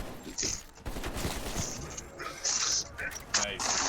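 Auto turrets firing in the Black Ops Cold War zombies map Mauer der Toten, bursts of rapid gunfire and mechanical clatter with sharp impacts mixed among game effects, while voices talk over the action.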